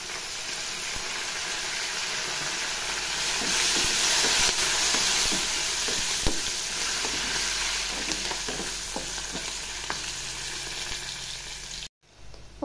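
A tempering of turmeric and curry leaves for lemon rice sizzles and hisses in hot oil. Stirring clicks and taps sound over it at close range, and the frying cuts out briefly near the end.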